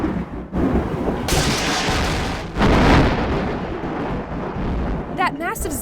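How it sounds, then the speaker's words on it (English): A lightning strike during a thunderstorm brings a loud crack and heavy rolling thunder, a dense rumble lasting several seconds that swells again midway before easing, with no talking. "That massive zap of lightning can heat me up enormously"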